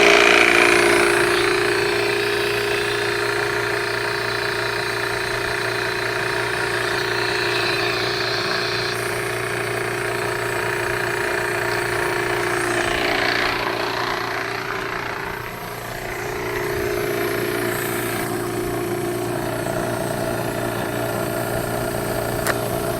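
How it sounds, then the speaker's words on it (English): An air compressor runs beside a waste oil burner in a workshop, a loud, steady mechanical drone with a constant hum that holds for over twenty seconds, dipping briefly midway, with no talking. "I'm going to turn on the air compressor"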